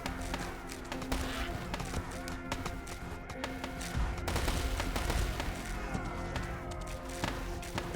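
Cannon and gunfire volleys in the War Selection strategy game, a dense ongoing battle din of repeated blasts and rumbling thuds with game music tones running underneath.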